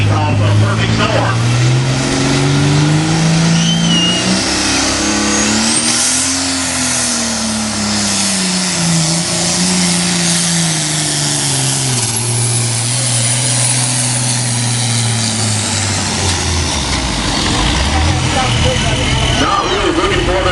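A modified pulling tractor called the Perfect Storm, driven by Buddy Ray at a Dry Ridge, Kentucky tractor pull, roars loudly and steadily for the whole stretch, its engine pitch rising and falling as it revs under heavy load.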